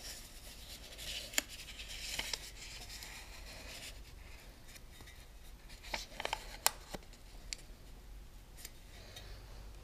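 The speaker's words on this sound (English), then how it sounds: "So I come out here, and wrap the tape around." Tape is wrapped around a metal tube to mark cuts, giving quiet rubbing and crinkling with scattered sharp ticks and clicks at close range.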